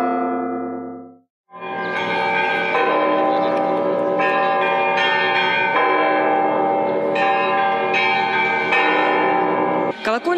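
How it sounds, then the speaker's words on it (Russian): Church bells ring in Rostov the Great during the town's 1150th anniversary celebration, a loud, dense peal of many overlapping bells sounding continuously after a brief opening tone and a short pause. "Колокольный звон, сколько раз его слышал Ростов Великий"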